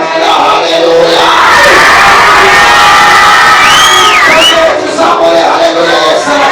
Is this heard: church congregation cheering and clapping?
yes